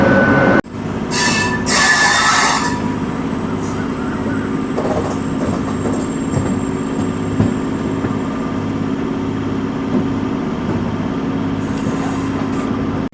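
A MEMU train pulls out of Villupuram, a continuous loud rumble of wheels and motors with squealing wheels and brief high hissing bursts, heard from on board without any talking.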